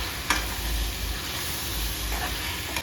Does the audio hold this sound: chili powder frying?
yes